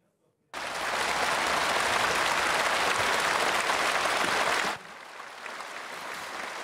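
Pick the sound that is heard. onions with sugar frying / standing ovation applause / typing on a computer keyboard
standing ovation applause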